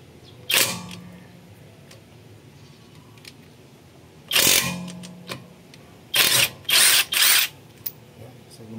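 A Tanzu cordless impact drill driving a size 19 socket, heard in short loud bursts: one near the start, one in the middle and three quick ones near the end, with quiet pauses between them.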